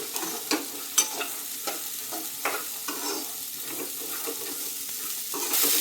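Ingredients roast lightly in a dry pan while a spoon stirs, giving a soft continuous sizzle broken by repeated sharp scrapes and taps against the metal at an uneven rhythm, close and fairly loud, with no voices.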